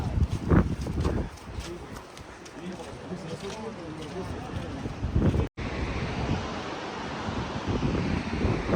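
Rushing water at the confluence of the Saraswati and Alaknanda rivers near Badrinath roars as a constant broadband wash outdoors, mixed with wind buffeting the microphone, and a person talks over it throughout.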